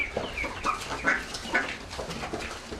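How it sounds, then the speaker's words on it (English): A Canada goose wandering a residential street, heard through light background noise as a run of faint, honking calls spaced at irregular intervals; no one speaks over it. "This is a Canada goose"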